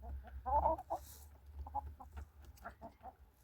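Chickens of a heritage breed clucking while eating a grain mix, with scattered short clucks and soft chirps close by, a louder cluster early on, over a low background hum.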